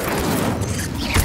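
Incendio fire spell cast in Hogwarts Legacy, a loud, sustained roaring whoosh of flame with a rumbling low boom, continuous for its short length.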